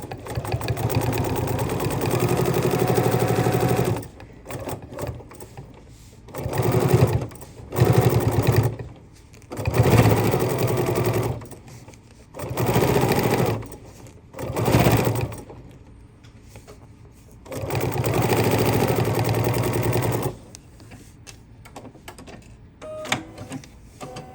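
Sewing machine stitching a paper-pieced gingerbread house quilt block, running in several loud bursts of steady whirring separated by short pauses, with no talk.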